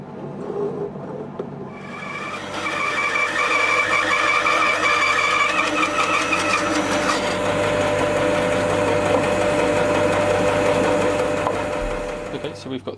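An Axminster Trade AT350WL wood lathe turning an olive ash cup spins up after a quiet start, then runs with a steady, close humming whine for several seconds before easing off near the end.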